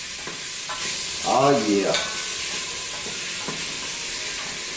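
Sausage and onions sizzling in a frying pan, a steady hiss of frying with scraping stirring strokes at intervals, close up, while someone briefly speaks over it.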